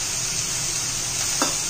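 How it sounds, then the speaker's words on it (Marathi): Mustard seeds drop into hot oil for a dry potato, capsicum and cabbage stir-fry, giving a steady close sizzle with a brief crackle of popping near the end. "आता आपण मोहरी घालूया"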